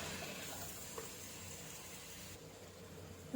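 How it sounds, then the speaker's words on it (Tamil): Tomatoes sautéing with salt in a pan, a soft steady sizzle and frying hiss that stays low and even throughout, with no talking. "தக்காளி வதக்கும் போதே நம்ம தேவையான அளவு கொஞ்சமாக சால்ட்டையும் போட்டு வதக்கலாம்"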